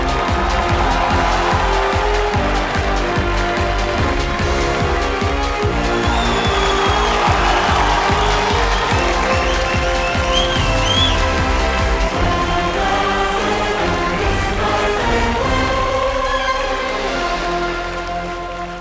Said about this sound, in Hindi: तालियों के साथ तनिषा अग्रवाल जी का स्वागत किया जाए